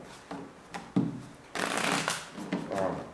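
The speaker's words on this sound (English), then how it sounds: "Let's get one more shuffle." A deck of tarot cards being shuffled by hand, with riffling bursts and soft slaps that grow into a dense, sustained flutter of cards near the microphone. No one speaks.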